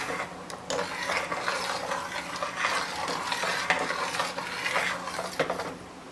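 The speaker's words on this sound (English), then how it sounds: "I'll give it a good stir for good measure" An IPA beer mash stirred in a pot on a low flame, with continuous swishing and gentle scraping strokes and a few soft metallic knocks, close and steady; no voices.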